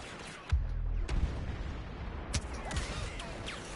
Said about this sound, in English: Try the pulse cannon, shall we?